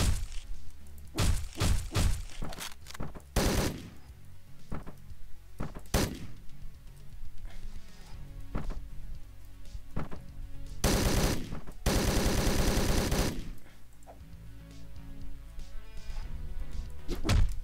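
Shotgun blasts from an off-screen enemy in a video game crack out loud and irregular, single heavy shots scattered among denser rapid bursts, one sustained volley running for a couple of seconds.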